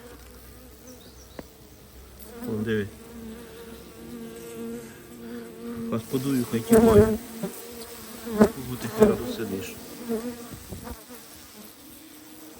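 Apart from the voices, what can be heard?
bees buzzing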